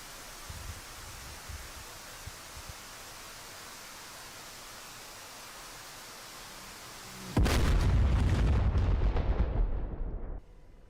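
A missile impact in a flight simulator game sets off a sudden loud, roaring explosion that rumbles for about three seconds before cutting off, following a long stretch of steady hiss.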